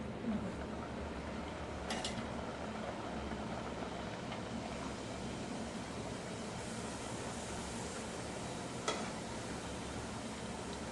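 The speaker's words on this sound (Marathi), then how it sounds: "तेल चांगलं तापलं आहे तर मी आता हे एक एक पारी याच्यामध्ये सोडून घेते" Khari puff pastry pieces frying in hot oil at home, a steady close sizzle and bubbling hiss throughout, with a couple of faint clinks over the continuous crackle.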